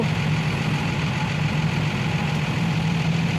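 A Sany SY135C excavator engine idles nearby in a steady, low diesel drone with an even rumble that holds for the whole stretch, with no talking.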